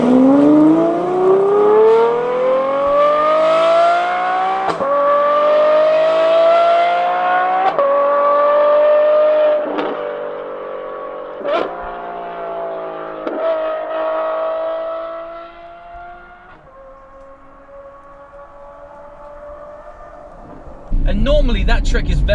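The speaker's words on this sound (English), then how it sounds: "that V12 howl that, you know, people expect from a V12 engine" Novitec N-Largo Ferrari F12 V12 engine howling through rising gears, loud smooth harmonic wails climbing in pitch with brief shift breaks, tapering off toward the end before a sudden burst of noise.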